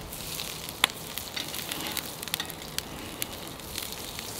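Steaks with butter, thyme, rosemary and garlic sear on a Weber kettle grill, giving a soft continuous sizzle with scattered crackles and pops. It is fairly faint and steady, with no voices.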